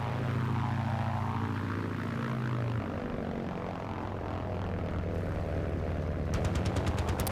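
A propeller aircraft engine in the Battlefield 1943 video game drones loudly and close, its pitch sagging and rising. A burst of rapid, rattling shots breaks in near the end.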